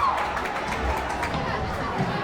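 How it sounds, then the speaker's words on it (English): Broad, steady crowd noise rises from the stands at a girls' basketball game in a gym, a dense wash of cheering and chatter that holds roughly level for the whole stretch. "And there's the cheer."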